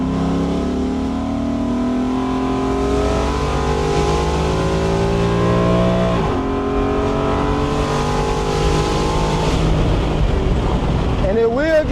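A fully custom 1967 Lincoln Continental with a 5.0 Coyote crate engine and air ride suspension cruises along with a steady engine drone that climbs in pitch as it accelerates near the end, with wind and road noise under it.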